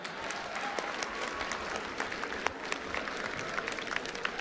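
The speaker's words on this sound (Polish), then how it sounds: "Brawa dla operatora kamery!" A crowd applauds the camera operator at a combat-sports press conference, dense continuous clapping with scattered sharper claps and some crowd noise throughout.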